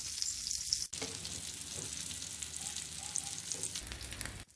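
Rice chapli kababs fry in a pan with a steady, close crackling sizzle, broken by one brief clatter near the start, with no voices.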